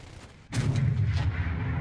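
Cannon fire from a MiG-23ML in a combat flight game breaks out after a brief lull, a loud, sustained, rumbling burst of rapid gunfire that carries on to the end.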